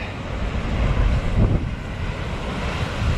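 Surf surges up onto a beach at a seal colony reserve, a steady roar of breaking waves and splashing water with heavy wind buffeting the microphone throughout.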